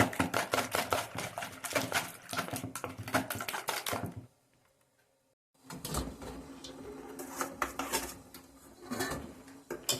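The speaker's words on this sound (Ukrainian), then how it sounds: "Тепер дуже-дуже добре оце все треба збити. Аж до білої піни збити треба." Rapid clinking of a whisk against a bowl, beating a mixture for a honey cake until it turns to white foam; steady close rhythmic rattling that stops briefly for a moment of near silence, then resumes.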